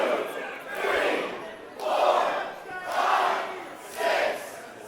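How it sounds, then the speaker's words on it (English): Crowd roaring at an All Star Wrestling match as a wrestler climbs the turnbuckle, loud waves of cheering and shouting swelling and surging repeatedly with no speech. "Murph looking for the roar of the crowd"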